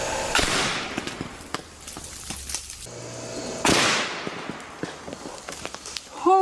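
Metal pieces zapped by a bank of 400 car batteries wired together, sharp crackling bursts and snapping sparks in irregular clusters, with two louder sizzling flares and scattered pops between them, close and no talking.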